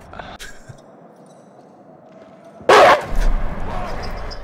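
A wolf in the horror video game Until Dawn lets out a single sharp, loud bark over quiet game ambience, with a faint voice earlier and a rumble of game sound afterward.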